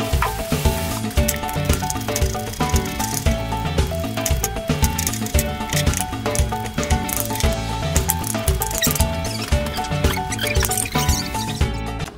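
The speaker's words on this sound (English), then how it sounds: "We just want it to cook slowly and start releasing some of those natural juices." Meat for a Puerto Rican sancocho stew cooks slowly in a pot, giving a continuous close sizzle and crackle, dense and steady throughout.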